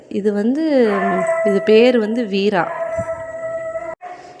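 A Pomeranian cross dog howls close by in a long, wavering, melodic howl lasting a few seconds, rising and falling in pitch, with a person speaking briefly alongside.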